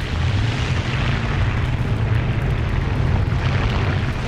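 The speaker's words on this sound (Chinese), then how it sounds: "好大的轰炸" Heavy bombing explosions in the War Thunder tank battle game, a continuous loud rumbling barrage of booms with dense low-end roar filling the whole stretch.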